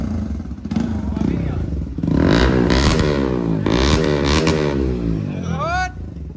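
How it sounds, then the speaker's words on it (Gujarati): A Bajaj Pulsar NS125 fitted with a bend pipe and no exhaust muffler revs loudly up close, a harsh raw engine roar rising and falling over several seconds, with a brief voice at the end. "ખાલી તમને એક્ઝોસ્ટ વગર બેન્ડ પાઇપનો અવાજ સંભળાવું"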